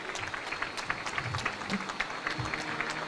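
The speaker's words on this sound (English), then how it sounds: "Round of applause, ladies and gentlemen." Audience applause at the launch of the ODPP Strategic Plan 2023-2027, a moderate, continuous patter of clapping with individual claps standing out, heard throughout the short stretch.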